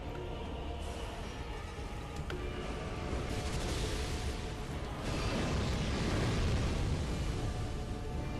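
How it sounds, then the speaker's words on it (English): An explosion in Dark Souls 3, a rising roar that swells into a dense, sustained rumbling blast, fairly loud with no voices over it. "Oh, dang it, the explosion!"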